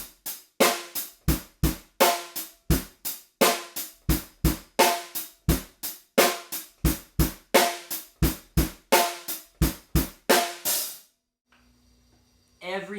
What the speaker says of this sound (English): My goal was to put every bass drum right there with the hi-hat, every snare right there with the hi-hat